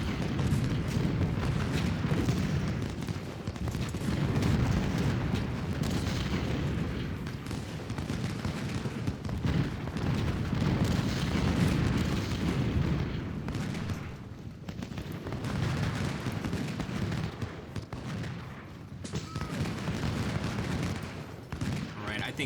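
Continuous rumbling artillery fire in a Gettysburg battle video game, dense overlapping booms and gunfire rolling without pause for over twenty seconds, with a voice talking intermittently over the battle.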